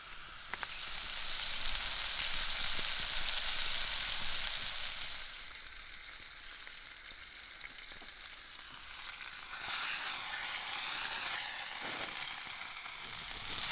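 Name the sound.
burger sizzling on a stick stove outdoors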